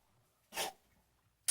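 A dog gives a single short, breathy sneeze-like burst, close by in a quiet room, followed by silence and a brief click at the end.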